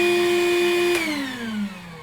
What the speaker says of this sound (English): We'll energize this vacuum cleaner. You can hear it pulling the water out of the drain pan.